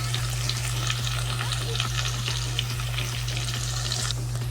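Garlic, onion and chillies sizzle steadily in hot oil in a pan, a loud, continuous close-up crackle with occasional stirring scrapes and a low steady hum beneath.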